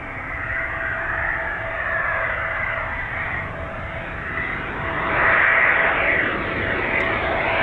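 RAF Typhoon jet flying over at RAF Coningsby, a broad steady engine roar that swells slightly as it passes, heard from the ground at moderate distance.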